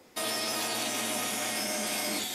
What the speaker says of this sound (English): So that now I can cut some 1/2-inch slabs out of this.